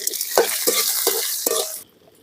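Okra sautéing in a pan, a close crackling sizzle with four or five rhythmic stirring scrapes before the frying noise cuts off abruptly into quiet.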